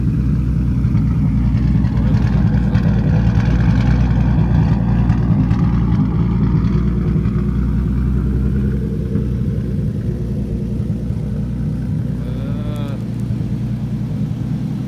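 Turbocharged Lexus IS 300 engine idling after an oil drain fix, a steady loud low rumble with an even rhythm held throughout, a faint whistling tone rising near the end.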